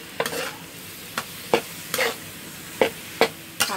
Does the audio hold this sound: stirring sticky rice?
yes